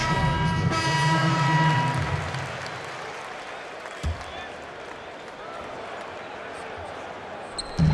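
In the NBA 2K19 video game, a basketball thumps on the court floor a couple of times, spaced several seconds apart, before free throws. Crowd noise and an announcer's voice come before it.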